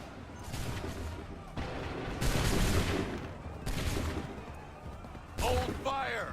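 Musket volleys crack out in bursts during a battle in Assassin's Creed III, each ragged fusillade swelling loudly and then fading, with shouted commands mixed among the shots.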